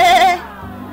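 A voice imitates a sheep with one loud, close, wavering bleat that fades out within a second.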